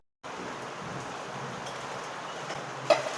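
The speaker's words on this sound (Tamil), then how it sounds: "எக்ஸ்ட்ரா சவுண்டு என்னென்னு பார்த்தீங்கன்னா மழை பெஞ்சிக்கிட்டு இருக்குது" Rain falls outside in a steady, even hiss that begins abruptly and carries on unbroken, with one brief louder spot near the end.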